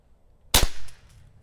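A single crisp shot from a Niksan Ozark .22 caliber pre-charged pneumatic air rifle, a sharp close crack with a brief tail, alone in a quiet setting.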